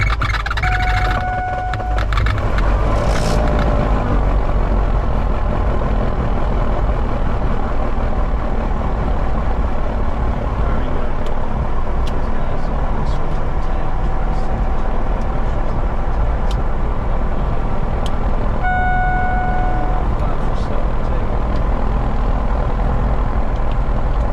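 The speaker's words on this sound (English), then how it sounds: "Now we're going to engage the starter." A small Cirrus or Diamond airplane engine rumbles steadily at idle after starting, a loud continuous low drone that fills the whole stretch with faint tonal beeps and clicks over it.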